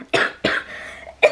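A person coughs three times at close range, sharp harsh bursts spaced unevenly, with a short gap between the second and third, and no speech.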